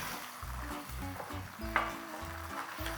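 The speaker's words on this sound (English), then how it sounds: "Coat the spaghetti in the lovely olive oil and garlic infused" Spaghetti tossed in sizzling olive oil and garlic, a quiet steady sizzle with soft stirring and one light clink of a utensil, under a low humming tone from the kitchen.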